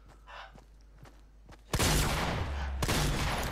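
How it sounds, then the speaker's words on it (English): A heavy shotgun fired in Fortnite, a sudden loud blast followed by a sustained roar of gunfire and a second burst, after a few quieter in-game clicks, with no talking. "I'm gonna come up behind them with a heavy shotgun"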